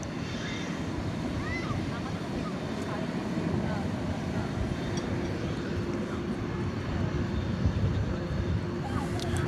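A Qantas airliner on flight 22 to Melbourne passes at night at DFW Airport, a steady broadband jet roar that holds at an even level throughout, with faint voices underneath.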